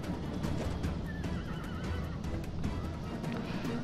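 Horses neigh and whinny repeatedly amid a dense, constant battle din in the Rome: Total War strategy game, with a rising-and-falling whinny standing out over low rumbling noise and faint clip-clop.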